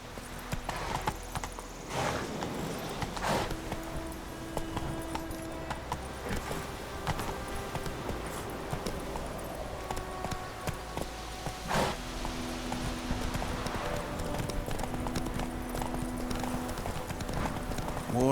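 Hooves of Geralt's horse Roach in The Witcher 3, a steady clip-clop walking rhythm that continues throughout under game music and ambience.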